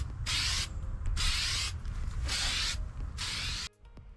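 Cold galvanized paint sprayed from an aerosol can onto rusted metal on a boat, four short hissing bursts with brief gaps, close and fairly quiet, no talk.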